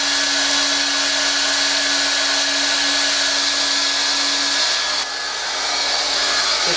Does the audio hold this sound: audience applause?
no